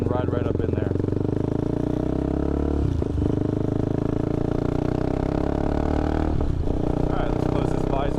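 A motorcycle ridden up a home driveway gives a loud, steady engine drone heard close up from the rider's position, with the rumble holding even throughout and only slight dips in pitch.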